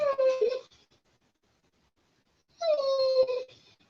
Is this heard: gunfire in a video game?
no